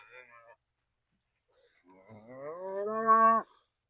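A calf on a farm paddock lets out a short call, then after a pause a long, loud, rising moo close by, standing alone without talk.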